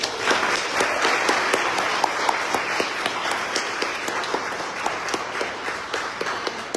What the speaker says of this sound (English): So we just want to give them another round of applause.